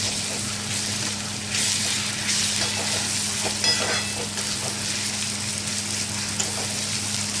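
Onion and ginger-garlic paste fry in oil for prawn biryani, giving a continuous close sizzle with occasional soft stirring scrapes and a faint steady hum underneath.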